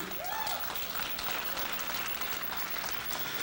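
Congregation at a Sunday evening church service clapping hands steadily together, a dense continuous patter of applause filling the room with a brief rising vocal tone near the start.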